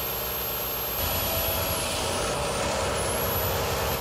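A 2013 Volvo FH truck engine drones steadily and loudly, its low rumble rising as maximum engine braking engages, with a faint high whine above.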